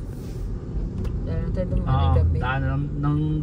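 Night street traffic in Butuan City hums as passing vehicles rumble past, while a person talks over the engine noise throughout.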